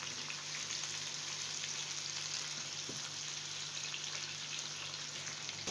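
Chopped tomatoes cooking in a pan for aloo moongre sabzi, giving a steady, even sizzle and fry hiss throughout, close and continuous with no voices.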